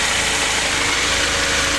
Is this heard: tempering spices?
no